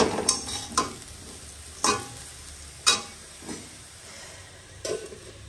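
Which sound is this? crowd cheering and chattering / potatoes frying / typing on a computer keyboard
potatoes frying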